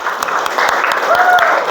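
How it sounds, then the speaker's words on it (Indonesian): A classroom audience applauds after a student's presentation, a brisk, close round of clapping with voices mixed in. "Aplaus."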